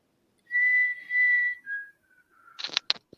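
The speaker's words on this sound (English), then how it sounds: "I can hear whistling." Someone whistles a few sustained tones nearby, gliding down in pitch, followed by brief breathy, clicking noises.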